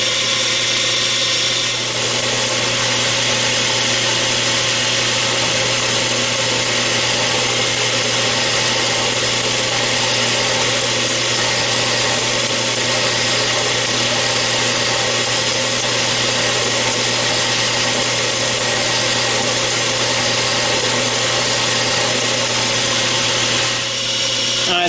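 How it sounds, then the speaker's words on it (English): A bench grinder fitted with a small wheel attachment shaping a knife, a loud, steady motor whine with a constant grinding rasp running unbroken throughout, close up and with no talk. "I have a small wheel attachment I put on to do this."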